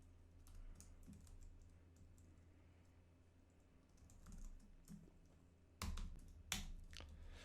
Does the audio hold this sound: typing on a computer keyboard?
yes